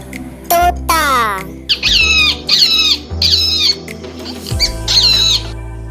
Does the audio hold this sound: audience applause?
no